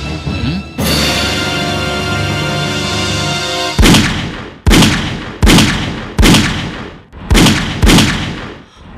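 Pistol shots in an animated movie ring out six times in an uneven rhythm, each a loud sharp crack with a ringing tail, following a droning sustained tone.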